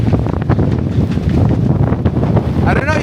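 Gale-force wind buffets the microphone at a boat dock with waves washing over a moored sailboat, a loud, continuous roaring rush with gusty surges, and brief faint human sounds near the end.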